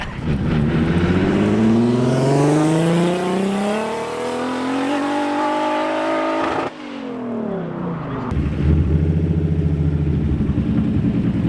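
A Nissan car engine revs hard into overboost, its pitch climbing steeply, then cuts off abruptly before settling into a rough, pulsing idle.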